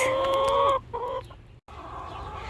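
Chickens cluck near a backyard coop on a hot day, a close, busy chorus of clucks and squawks that drops away briefly before the flock's murmuring returns.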